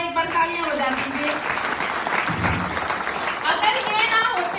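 A crowd claps for a guru named Rameshwar Singh, with dense applause filling the space beneath a voice that carries on throughout.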